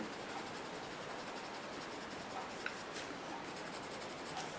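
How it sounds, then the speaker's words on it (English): An HB pencil scratching fine lines and small circular strokes across paper to build tree texture, a soft continuous scratchy rustle, close but faint, with no talk. "the HB pencil is very good for fine lines"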